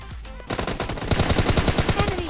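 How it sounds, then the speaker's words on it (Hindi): Rapid automatic gunfire from the battle royale game PUBG Lite, a fast regular burst of shots that starts after a brief lull and keeps hammering steadily, loud and close with no talk over it. "मेरे पीछे तरफ से फायरिंग की साउंड आ रही थी बहुत तगड़ी वाली"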